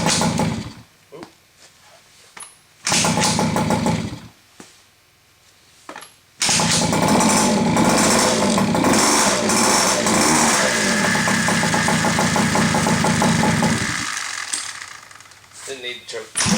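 A KTM SX50 dirt bike with a new stator and coil, its engine earlier flooded, kicks over in a couple of short bursts, then catches and revs into a loud, buzzy two-stroke idle that eases off toward the end, with brief talk between attempts.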